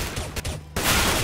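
Gunfire in Counter-Strike: Global Offensive on the Nuke map during a competitive match: a loud, dense burst of shots fills the moment, breaks off briefly, then resumes even harder, with no one speaking over it.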